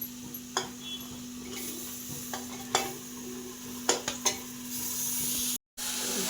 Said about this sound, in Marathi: आता आपण याच्यात मटण टाकूया